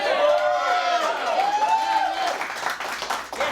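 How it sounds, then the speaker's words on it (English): Studio audience at a late-night talk show set in a house, clapping and cheering loudly in a dense continuous wash, with whoops and a voice rising over it before it thins toward the end. "I love applause."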